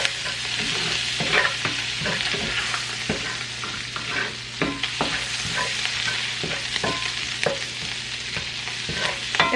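Fish fries in melting butter in a pan, a constant close sizzle broken by repeated scraping strokes of a utensil across the pan bottom.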